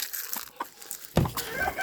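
Cochin chickens cluck nearby in short, irregular bursts, with a louder squawk partway through.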